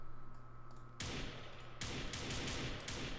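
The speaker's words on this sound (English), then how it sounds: "replace the gunshot clip with M4A1 sound effect" Rapid automatic M4A1 rifle fire from a Unity-built survival game modeled on Rust, a dense burst of loud, close shots running continuously through the second half with no talking.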